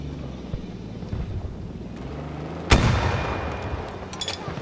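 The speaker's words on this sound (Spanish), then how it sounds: "Cañonazo." A single heavy cannon blast in Battlefield 2042 booms out midway, its deep roar trailing off, with scattered battle noise and rumbling around it.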